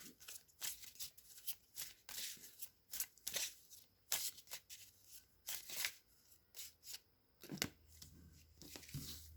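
Fortune-telling cards are shuffled close to the microphone in repeated quick riffles and slaps, as irregular bursts over about nine seconds with brief gaps between them.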